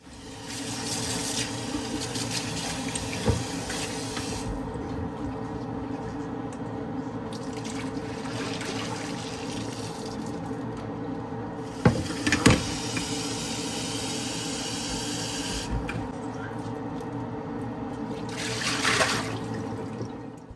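Tap water runs to rinse out a new jug in a Swiss village home, a steady broadband splashing and gushing that swells and fades in bursts as the jug is filled and emptied, with a few sharp knocks.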